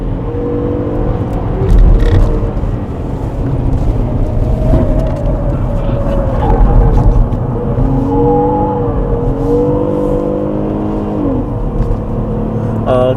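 A Hyundai Grandeur IG with its stabilizer removed laps a racing circuit, its engine droning and surging under load through a corner with steady road and wind noise, heard from inside the car.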